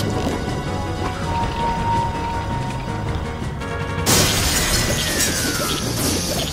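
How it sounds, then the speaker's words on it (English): A large bubble enemy in Zelda: Majora's Mask slams into the ground and shatters, giving one sudden loud glassy crash over steady game music and ambience. "Love the shattering noise whenever the big bubble hits the ground."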